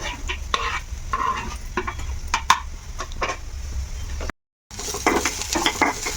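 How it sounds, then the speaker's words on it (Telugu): Onions fry in a pan for paneer paratha filling, a busy close sizzle punctuated by repeated metal spoon scrapes and clinks against the pan, briefly cutting out before resuming; no voices. "ఇదిగో ఇప్పుడు ఈ ఉల్లిపాయలు దాంట్లో వేసేస్తున్నాను"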